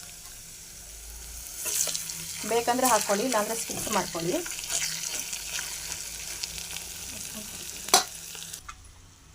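Carrots are stirred and fried in a pan for ghee rice, with a quiet, steady sizzle and scraping stirs under a woman's speech.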